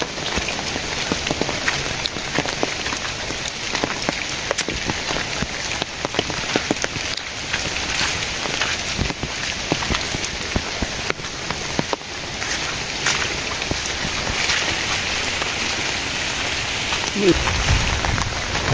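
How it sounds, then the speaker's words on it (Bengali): Steady rain falls in a village, a dense unbroken patter that holds at an even loudness for the whole stretch, with a few low thumps and faint background sounds mixed in. "বৃষ্টি পড়লে তো ভিজবই।"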